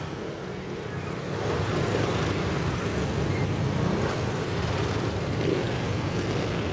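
Heavy road traffic jammed and barely moving near Masinag, a steady broadband roar of idling and creeping vehicles filling the scene continuously at moderate loudness, with no voices.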